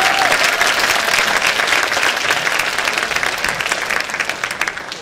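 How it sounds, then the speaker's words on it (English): Loud, continuous audience applause for the music teacher at an elementary school spring concert, steady and dense throughout, thinning slightly toward the close. "Can we give Miss Leslie a big round of applause?"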